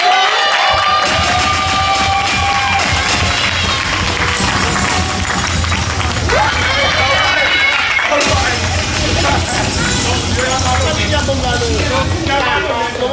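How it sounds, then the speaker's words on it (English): A crowd cheers, whoops and claps for a speaker's sister at a live event. The noise is loud and dense, with shouts and whistles over sustained applause throughout. "let's please give it a big round of applause for my sister"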